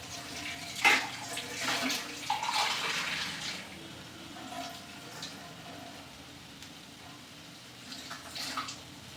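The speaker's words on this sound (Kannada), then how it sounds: "ಈಗ ಒಂದು ಸ್ವಲ್ಪ ನೀರು ಹಾಕೋಣ ಇದಕ್ಕೆ." Water splashes as it is poured from a glass into a pan of frying sambar masala, a short burst of pouring and sputtering that trails off into quieter bubbling.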